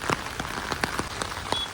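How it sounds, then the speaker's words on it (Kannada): Steady rain pattering around a houseboat on the backwaters of Alleppey, with close individual drops tapping in an irregular rhythm over a continuous wash of falling water. "ಒಳಗೆ ಹೋಗೋಣ ಇವಾಗ. ಮಳೆ ಬರ್ತಾ ಇದೆ."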